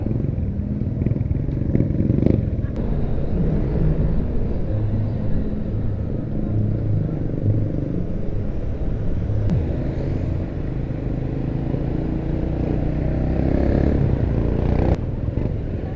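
A Suzuki Burgman Ex scooter ridden through busy traffic in Lapu-Lapu City, a steady low engine drone and wind rumble running continuously and loud, with faint clatter of surrounding vehicles.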